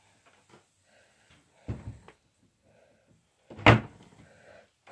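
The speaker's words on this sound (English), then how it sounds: "here goes my cat trying to open the door" A cat paws at and rattles an indoor door, making two soft thuds, the second louder, against a quiet room with faint background noise.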